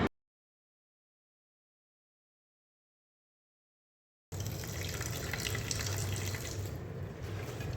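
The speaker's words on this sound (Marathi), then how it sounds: "अब हम चिकन को धो रहे हैं।" Tap water runs into a sink while cut chicken is washed, a steady splashing stream that starts abruptly after a stretch of silence and continues evenly to the end.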